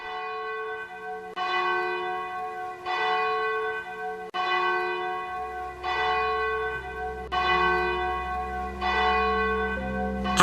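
Church bells pealing in repeated strokes, several bright ringing hits at a steady rhythm with long sustaining tones, heard clearly with a low hum entering midway, marking the end of the Second World War in Parelhas.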